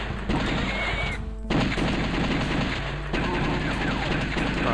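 Continuous arcade gunfire from blasting zombies in The House of the Dead, a dense, loud stream of shots with brief breaks, carried over a steady game soundtrack.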